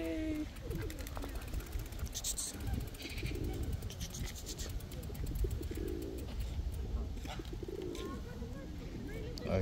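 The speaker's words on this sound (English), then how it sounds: "Got birds everywhere." Pigeons coo repeatedly in a park, a steady bird chorus with scratchy background noise, while people talk briefly over it.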